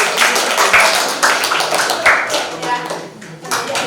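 Brief applause in a classroom, a short round of scattered hand claps from students that swells and fades over a few seconds.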